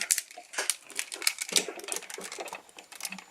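Plastic parts of a Transformers Masterpiece MP36 Megatron figure snap and click together in quick, irregular bursts of small sharp ticks, close and crisp, with soft handling rustle between them.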